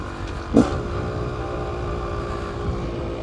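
A motorcycle engine rumbles steadily during a wheelie practice on a straight, with a brief sharp rev surge near the start before settling into a constant drone.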